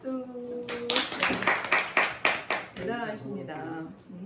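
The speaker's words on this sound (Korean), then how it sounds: "박수." A small group at a public lecture claps in a quick, rhythmic burst of about eight distinct, close, loud claps, with people speaking just before and after the clapping.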